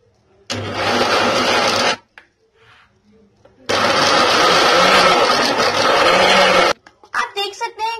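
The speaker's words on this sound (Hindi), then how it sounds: "अब हम इसको वापस से मिक्सी में डालेंगे।" Mixer grinder blending chilled homemade chocolate ice cream, two loud sustained whirring bursts of about one and three seconds separated by a pause, followed by brief clattering.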